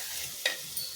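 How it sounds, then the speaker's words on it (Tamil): Fish curry being stirred in a pan on the stove, with a soft continuous sizzle and a couple of brief scraping clinks of the spoon against the pan, fairly quiet and without talk. "நல்லா கிளறி விட்டுட்டோமா"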